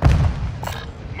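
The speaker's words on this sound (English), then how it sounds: "Taking effective fire! Incoming!" Incoming gunfire in Warzone DMZ, a heavy booming shot followed by a few sharper cracks, with a voice calling out over the noise.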